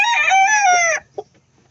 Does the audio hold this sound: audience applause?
no